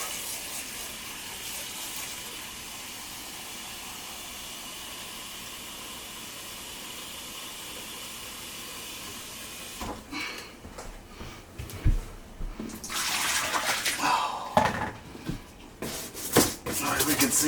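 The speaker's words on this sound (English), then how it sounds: "let's get some more hot water." Hot water gushes from a tap in bursts during cleaning of a filthy Frigidaire dishwasher, loud and splashing after a quieter stretch of low room noise.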